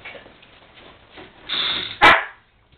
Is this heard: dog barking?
yes